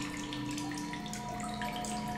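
Water sloshes and trickles in a continuous wash as a character drinks in the space survival game The Solus Project, a steady liquid rush layered over a low ambient hum.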